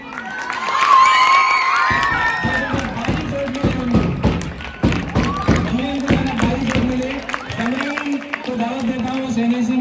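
Crowd of schoolchildren at a school mock election cheering, shouting and clapping for the winning candidate, loud and close, with shouts and thumps. A voice speaks over the noise early on.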